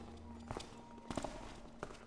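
Guard footsteps in the Thief fan mission The Black Frog, a few soft, irregular steps at moderate distance over a constant low ambient hum, with no talking.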